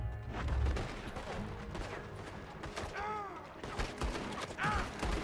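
Gunfire in the video game Red Dead Redemption 2 during a town shootout, dense bursts of shots mixed with game crashes and effects over a busy loud background, with a brief voice and whistle-like tones partway through.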